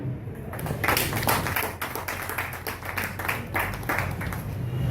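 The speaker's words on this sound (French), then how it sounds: "N'apportez-vous un applaudissement, s'il vous plaît." An audience at a conference of the Association des Universitaires du Nord applauds, a dense steady patter of many hands clapping close by for about five seconds, with no talk over it.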